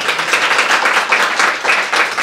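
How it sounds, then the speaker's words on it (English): A room full of people applauds, steady dense clapping that holds strong throughout. "please give our speakers a round of applause"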